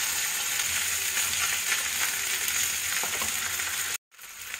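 Cooked rice being stir-fried in a pan makes a continuous loud sizzle with light scraping as it is turned, then cuts off abruptly near the end before the frying hiss returns.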